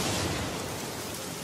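Rain beginning to pour in an animated cartoon scene, a soft, steady wash of hissing downpour heard briefly and fairly quietly with no voices.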